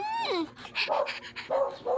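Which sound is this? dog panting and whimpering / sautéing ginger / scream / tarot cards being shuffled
dog panting and whimpering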